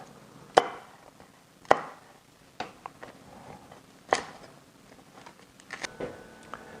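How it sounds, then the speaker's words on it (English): A knife chops the tips off snap peas on a cutting board, several sharp, separate knocks spaced irregularly, close and clear over a quiet background. "All I'm going to do is just cut the tips off"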